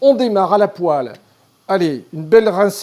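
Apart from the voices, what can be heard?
No everyday noise stands out behind the speech.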